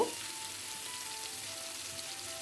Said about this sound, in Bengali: পেঁপের টুকরোগুলোকে আমি একটু ভালোভাবে ভেজে নেব।